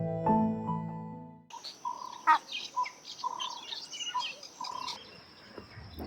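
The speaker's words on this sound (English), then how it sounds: "The birds are eating it faster than we can harvest, so we need to harvest it today." Birds chirp in a garden near a banana plant, with short repeated tweets and calls spaced through the scene under a faint insect-like hiss, after a brief burst of louder tonal sound at the start.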